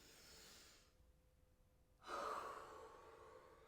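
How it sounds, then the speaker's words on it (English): Deep, breathy inhale then a long exhale in a yoga session: a soft airy draw of breath, a brief hush, then a louder, fuller rush of outgoing air. "One more big inhale. Big exhale."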